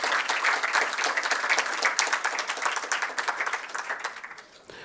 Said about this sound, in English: Big round of applause to Professor Kulkarni.